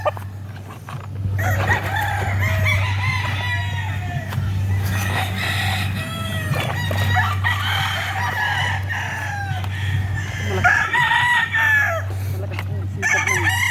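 Chickens and roosters kept for breeding cluck and crow close by in a yard, with overlapping calls throughout over a steady low hum, and voices talking now and then.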